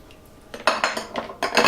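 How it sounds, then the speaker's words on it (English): A metal spoon scrapes and clinks against a pot of homemade turkey soup in several sharp bursts after a quiet start, close and bright. "Stir it up just a little bit"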